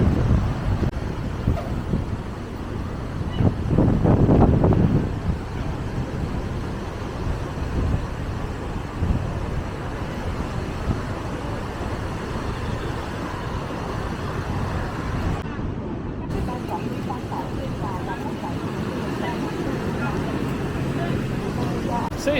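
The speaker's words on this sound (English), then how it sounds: "Pretty windy day out here today" Gusty wind buffets the microphone outdoors on a windy beachfront in Da Nang, Vietnam. The rumble stays steady throughout, with a louder gust early on and faint traffic noise underneath.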